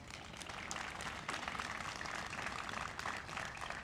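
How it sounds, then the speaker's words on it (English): Audience at a city groundbreaking ceremony applauding the city commission, a steady, dense wash of many hands clapping together at a moderate distance for about four seconds. "I would ask that you please give them a round of applause"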